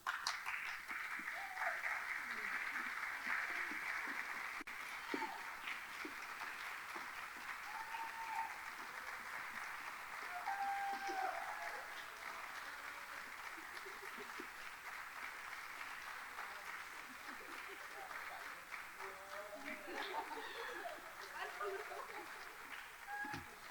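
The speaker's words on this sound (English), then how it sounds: "everyone give one last round of applause" Audience applause at the end of a conference, sustained clapping from a large room at a steady level throughout, with faint voices scattered underneath.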